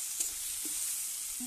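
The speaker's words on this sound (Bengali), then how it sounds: "জিরা বাটা একটুখানি ফ্রাই করে নেব।" Cumin paste frying in oil with butter in a pan, a close, steady, bright sizzle with faint stirring sounds and no talking.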